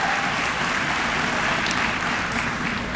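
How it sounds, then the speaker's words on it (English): Commencement audience at a historically black Maryland university giving a round of applause, dense and steady clapping from a large crowd sustained throughout, with faint cheers mixed in. "that deserves a round of applause"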